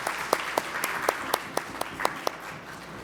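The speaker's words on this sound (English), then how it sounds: "Please give them a big round of applause." Applause at an International Women's Day celebration held by FIA of the Tri-State area and the Consulate of India, a sparse crowd clapping at a moderate distance with irregular individual claps standing out.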